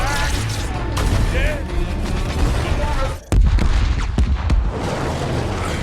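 A huge explosion from explosives set off in an action film scene: dense, loud rumbling blasts that dip briefly midway, then burst back in with heavy crashing over a busy soundtrack.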